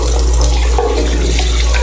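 Hot water runs steadily from a tap into a sink at a lagoon resort in Cebu, a continuous close rushing splash with no voices.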